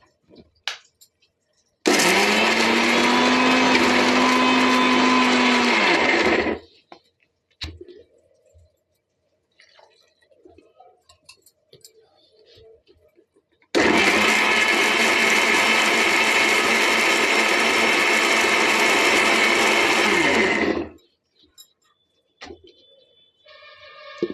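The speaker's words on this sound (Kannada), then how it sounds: "ಈಗ ಹಾಕ್ಕೊಂಡು ಮುಚ್ಚಿ ಮಿಕ್ಸಿ ಮಾಡ್ತಾಯಿದ್ದೀನಿ" A mixer grinder blends grated coconut and salt in two loud, close bursts of about five and seven seconds each, with quiet gaps and small handling knocks between runs.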